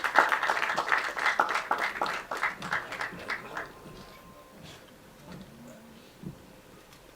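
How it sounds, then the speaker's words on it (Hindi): An audience at a film trailer launch applauds for actor Annu Kapoor, a brisk round of clapping that fades out after a few seconds and leaves faint background murmur. "हमारे आपके अन्नू कपूर साहब के लिए एक बार जोरदार तालियां।"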